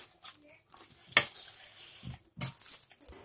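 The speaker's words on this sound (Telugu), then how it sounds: "నేను ఇది మంచిగా కలుపుకోవాలి" Moong dal pakodi batter is stirred by hand with added salt, producing close, wet, irregular squelching and scraping strokes in a bowl, with short pauses between them and no talking.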